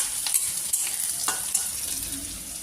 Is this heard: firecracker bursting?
no